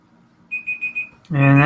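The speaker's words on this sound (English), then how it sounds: "And that's my timer." A timer alarm beeps four times in a quick even rhythm, then bursts into a loud continuous ringing tone, close and clear against a quiet background.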